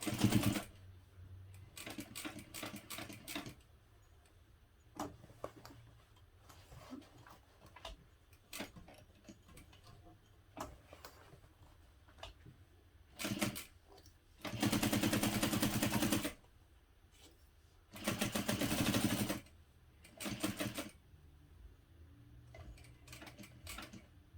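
A sewing machine stitches a hobo bag in stop-and-start runs, with rapid mechanical ticking bursts of varying length and two longer, louder passes in the middle, close and without talk.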